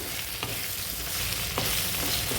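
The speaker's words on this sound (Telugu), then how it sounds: "ఇప్పుడు దొండకాయ ముక్కలు చూద్దాము ఒకసారి మిక్స్ చేసుకున్నాము చక్కగా ఫ్రై అయిపోయాయి" Chopped ivy gourd pieces fry in oil in a pan for a Dondakaya fry, a steady close sizzle with a few soft stirring scrapes and no voices.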